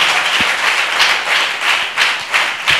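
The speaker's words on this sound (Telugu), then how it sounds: "చేయలున్న వారు చప్పట్లు కొడదామా?" A church congregation claps in steady rhythm during a Telugu sermon, roughly two claps a second, close and loud, with a low thump under some of the beats.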